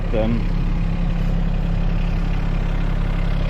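A small farm tractor's engine runs steadily at idle or low revs while turning compost, giving a continuous low rumble throughout with no pauses.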